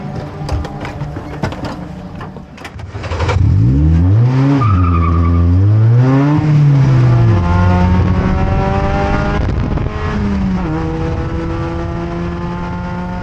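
A loud Vios Cup race car engine revs and sweeps through gears on a track in the Philippines, with rising and falling whine and tire noise, close and continuous, no talking.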